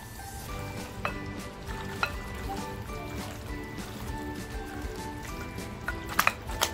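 Mutton masala for mutton rassa being stirred in a pan, a continuous soft sizzle of frying with faint scraping and clinks from the stirring, steady and fairly quiet throughout.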